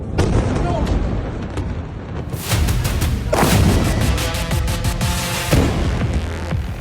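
Missile explosions in Haifa, Israel, during the Israel-Iran conflict: a series of loud booms and sharp cracking bursts over a rumbling background, several impacts in succession at distance.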